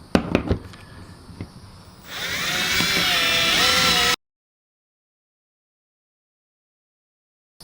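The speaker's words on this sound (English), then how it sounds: "take your drill with a 3/8 bit, use your base plate as a template, and drill the outer 4 holes" A drill fitted with a 3/8 bit bores through a metal base plate, starting with a few knocks and then running in one steady whine for about two seconds before cutting to silence.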